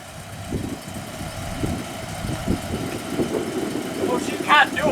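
A 1958 Chevrolet Impala engine with dual exhausts idles softly and steadily with a low, even rumble, while people talk nearby over it.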